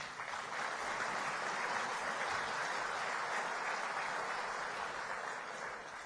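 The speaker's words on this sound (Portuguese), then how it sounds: "é exatamente alguém que merece o aplauso de todos" A crowd at a Brazilian agriculture plan launch applauds in a continuous, fairly faint wash of clapping that lasts the whole stretch.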